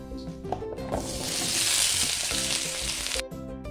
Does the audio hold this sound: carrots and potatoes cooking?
yes